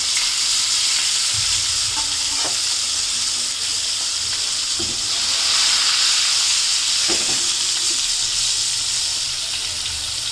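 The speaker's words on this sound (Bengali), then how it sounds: "মাছটা একটু ভাজা হোক" Tilapia fish frying in hot oil in a home kitchen, a loud continuous sizzle and hiss close by, broken by a few soft clunks from the pan or utensil, no talking.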